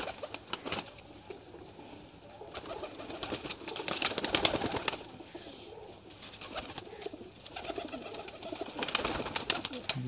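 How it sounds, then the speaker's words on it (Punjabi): Flying pigeons coo in a loft, with soft repeated coos and bursts of wing flapping and rustling close by, and no talk over them. "ਇਹ ਜੀ ਇੱਕ ਹੋਰ ਪਰਵਾਜ਼ੀ ਕਬੂਤਰ ਇਹਨਾਂ ਦਾ"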